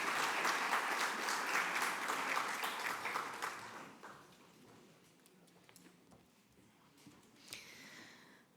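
Audience applause at a tax policy congress panel in Coimbra, dense and steady at first, then thinning into scattered claps and fading out over several seconds.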